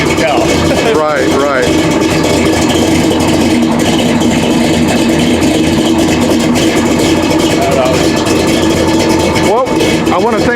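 A 1967 Ford Galaxie 500 V8 engine idles steadily with a lopey cam, a loud continuous rumble running throughout, while people talk over it.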